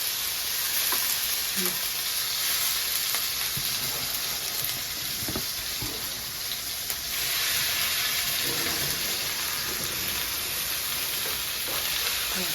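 Steady loud sizzling of fish and shrimp frying in hot oil in a fry pan, a constant crackling hiss with occasional stirring clinks, no talking.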